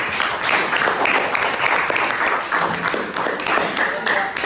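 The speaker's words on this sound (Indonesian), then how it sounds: "Tepuk tangan buat teman-teman saya." Students in an Islamic religious education class clap for classmates after a group presentation, a lively burst of many hands with voices and cheers mixed in.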